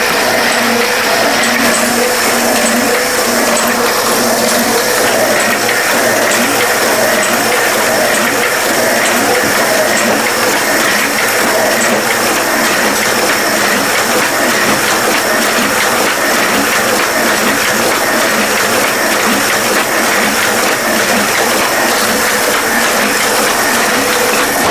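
Offset printing machine running a job of wedding invitation cards, a steady dense mechanical clatter of gears and ratcheting parts throughout, loud and continuous with no talk.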